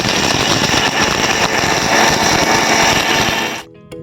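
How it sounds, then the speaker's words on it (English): Electric mixer grinder jar pulverising whole spices into fine fish fry masala powder, a loud, continuous whirring and rattling roar for several seconds that cuts off abruptly near the end. "Now place the lid of the jar and grind it."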